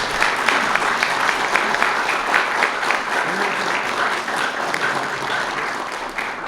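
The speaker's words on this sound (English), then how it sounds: "How about a round of applause for our speaker?" Loud, sustained applause from a crowd at the National Press Club after a speech by the Air Force Chief of Staff, many hands clapping steadily in a dense, even roar that carries through to the end.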